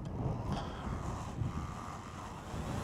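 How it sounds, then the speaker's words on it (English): Outdoor wind buffeting a microphone beside a DJI Mini 3 Pro drone, a steady low rumbling roar with gusty swells throughout, no talk. "Oh God, it's windy."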